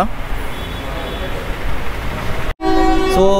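The Navajivan Express passenger train rumbles into the station with a loud, steady roar, then after a brief cut a blaring horn sounds close by.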